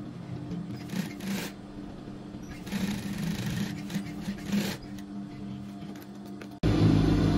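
A sewing machine stitches a pocket in short runs of rapid mechanical chatter, three or so bursts of about a second each, close by, followed by a louder, steadier noise near the end.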